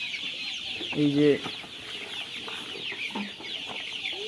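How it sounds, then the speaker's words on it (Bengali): Sonali chickens on a farm in Bangladesh, crowding behind a keeper for morning feed, make one short loud cluck and a few fainter calls over steady background noise, while a person speaks briefly. "দেখো আমার কীরকম পিছে পিছে সব মুরগি চলে আসছে খাবারের জন্য।"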